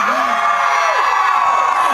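A large audience of fans screams and whoops loudly and continuously, a dense wall of high cheering with individual shrieks rising and falling throughout.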